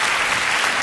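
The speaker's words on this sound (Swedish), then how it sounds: "Det var en applåd av tröst." Audience applause at a Stockholm live comedy show, a steady dense wash of clapping filling the whole short moment at close, even loudness.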